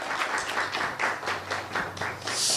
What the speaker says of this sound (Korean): 교수님 나오실 때 큰 박수로 맞이하겠습니다.